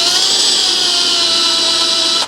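A power drill bores steadily into a broken bolt, a loud continuous high-pitched whine with no talking, cutting off at the end.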